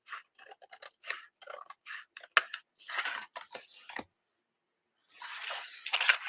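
Scissors snip paper being trimmed for an envelope, a quick run of crisp close cuts, then a longer slicing pass after a short pause.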